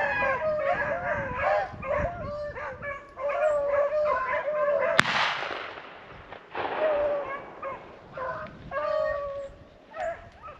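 A pack of beagles bays and yips in a rabbit chase through thick cover, a steady chorus of overlapping howling barks, with a single sharp gunshot cracking out midway before the baying resumes.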